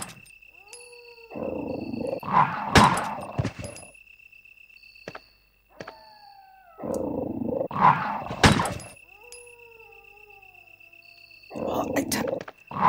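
Dog in the Resident Evil video game giving repeated loud snarling roars and growls in three bursts separated by quieter stretches, with tonal game sounds in between.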